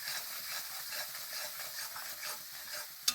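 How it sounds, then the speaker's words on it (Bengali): Mustard seeds and spices fry in a pan as Kashmiri chilli powder is mixed in, giving a steady close sizzle with stirring scrapes and a sharp clink of the utensil near the end. "সর্ষেটাকে কিন্তু বেশিক্ষণ ভাজা যাবে না"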